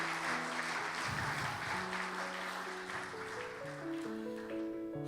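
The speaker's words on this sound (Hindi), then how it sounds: "जोरदार तालियां खुदावंद यीशु मसीह के लिए।" Congregation applause fills a sermon service at a church in the UAE, a steady broadband patter lasting the whole stretch with sustained musical tones playing underneath.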